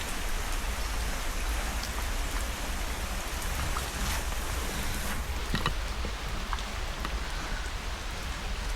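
Heavy rain pours down in a steady, dense hiss with no letup, a loud continuous wash of drops with no voices.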